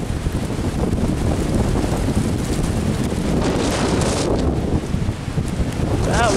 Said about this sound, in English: Here's the tornado wind.